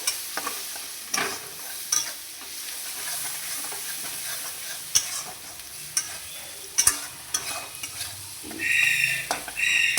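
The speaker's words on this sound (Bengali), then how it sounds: "জিরে গুঁড়ো দিলাম, চিংড়ি মাছ দিয়ে দিলাম, দিয়ে একটু নেড়ে নেব।" Shrimp with chili powder and cumin powder frying in a pan while being stirred, a steady sizzle broken by repeated sharp utensil scrapes and clinks, close and without talk.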